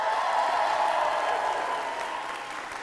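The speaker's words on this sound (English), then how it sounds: "let's celebrate them with a little cheer" A graduation audience claps and cheers together, a dense, loud wash of applause that holds steady and then slowly fades.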